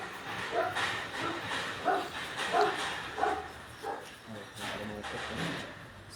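A fire brigade search and rescue dog barks in repeated sharp bursts during an outdoor demonstration, fairly close, with people talking and crowd noise underneath throughout.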